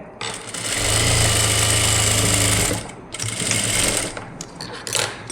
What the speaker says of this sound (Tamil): இதையும் அதே மாதிரி பிசிறு இல்லாமல் நான் தைக்கிறேன்